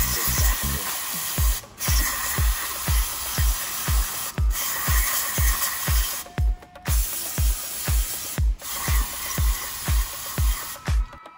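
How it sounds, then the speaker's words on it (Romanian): Brake cleaner sprayed onto the oil filter cap of a 2016 BMW X3 2.0d with the B47 diesel engine during a service: a steady, loud aerosol hiss runs throughout, over a regular pulse of low thumps. "Curățați de fiecare dată cu un spray de frâne capacul filtrului de ulei pentru a elimina eventuale reziduri ce s-au depus."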